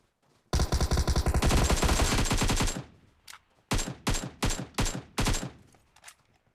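Automatic gunfire in the mobile battle royale game PUBG Mobile: one long loud sustained burst, then several short rapid bursts with brief gaps, close and without talking.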